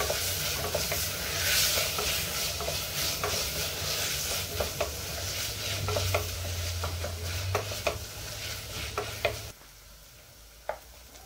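Tomatoes sautéing in a pan while being stirred, a steady close sizzle with repeated scraping and clinking of the spoon, ending in a couple of light taps once the frying fades.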